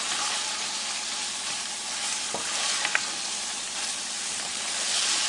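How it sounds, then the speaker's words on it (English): Green onions, ginger and shredded cabbage are tossed in a sizzling pan, giving a loud, continuous frying hiss with a few sharp scrapes and clicks of a utensil stirring, and no voices. "we're just going to add it and just toss it around in there"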